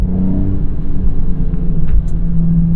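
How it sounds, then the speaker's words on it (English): A 1991 Acura NSX cruises along, its exhaust a loud, constant low drone with steady road rumble beneath it, recorded from the cabin and uninterrupted by voices. "The exhaust, as an old man, as a grandpa myself, is a little bit too drony for me."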